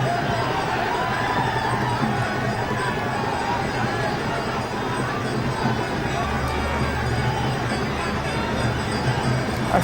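A large crowd packs the street at Amit Shah's road show in Purnia. Dense, continuous roaring, cheering and shouting hold a steady high level throughout, and individual voices blur into the mass.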